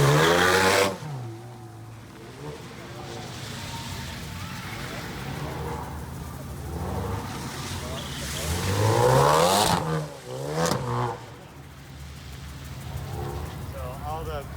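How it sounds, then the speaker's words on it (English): A manual-transmission car launches in first gear at full throttle as the clutch is dumped. The engine note climbs in loud, rising revving sweeps, and people talk over and between the pulls. "floor it, and dump the clutch"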